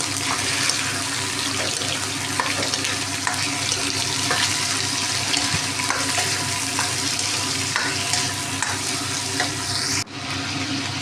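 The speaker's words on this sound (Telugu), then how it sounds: "పచ్చి రొయ్యలు వేయించేసి కొద్దిగా కలర్ మారే వరకు వేయించుకొని" Raw prawns fry in oil in a pan, a dense, loud, continuous sizzle with occasional stirring clicks that stops abruptly near the end, with no one talking.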